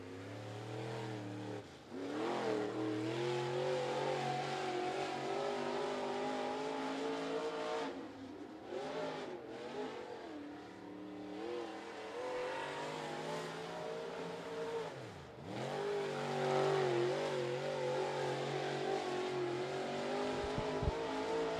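A race car laps a speedway oval, its engine rising and falling as it brakes into turns and accelerates out of them, with loud sweeping revs and passes close by across repeated laps.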